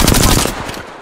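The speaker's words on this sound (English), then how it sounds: "Shots fired." Loud, close bursts of automatic gunfire in the battle royale game Apex Legends: a rapid, dense volley for about half a second, then quieter scattered shots trailing off.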